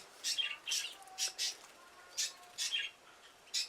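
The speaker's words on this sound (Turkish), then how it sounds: "Kavun benim e, emektar kanaryalarımdan biri" Kavun, an old pet canary, gives a quick series of short, bright chirps in separate bursts, fairly faint against a quiet room.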